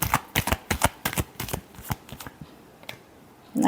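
Tarot cards being shuffled by hand, a quick run of crisp riffling flicks in bursts, close and clear, tapering off before a brief rustle at the end.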